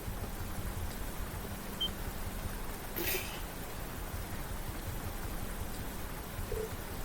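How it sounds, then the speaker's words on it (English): Rain falls in the video game Trails into Reverie as a steady, soft hiss that stays at an even level throughout, broken by one brief sharper sound near the middle. "Great. Now it's raining."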